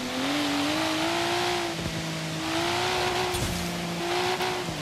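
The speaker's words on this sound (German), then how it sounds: "Wie dieses Auto hier schießt. Das ist einfach eine Freude." Toyota Supra engine in the racing game Forza Horizon 3, a loud sustained roar under hard acceleration, with brief dips and pitch drops at gear shifts before climbing again, steady and close throughout.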